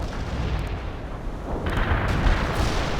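Artillery fire in the World in Conflict strategy game: deep, rumbling booms and blasts roll one after another close by, with a dense low roar underneath and a brighter burst near the end, no voices.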